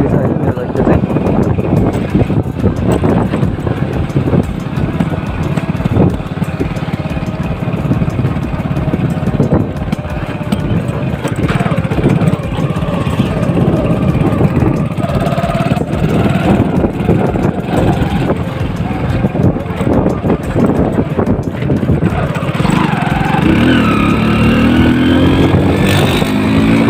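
A Crossfire motorcycle runs with its exhaust missing, a loud, raw, continuous engine roar close by with heavy wind buffeting across the microphone throughout.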